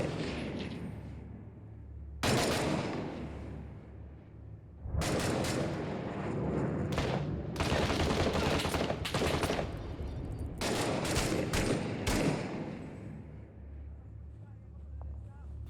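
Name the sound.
grenades and gunfire in video game Six Days in Fallujah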